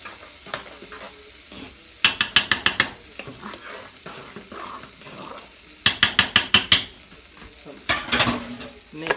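Sour cream being stirred into a hot chicken lasagna sauce in a pot, with bursts of rapid scraping spoon strokes against the pan between quieter gaps and a light sizzle, no talking.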